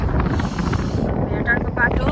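Strong wind buffets the microphone on the Bhedetar sky bridge, a close, rough rumble that continues steadily throughout.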